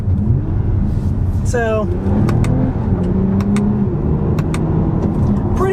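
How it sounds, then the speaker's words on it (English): A 2020 Toyota Camry TRD's engine rising and settling as gears shift through paddle shifters, a loud rumbling drone inside the cabin with a quick rev sweep, under a brief spoken word. "I'm going to try out the paddle shifters"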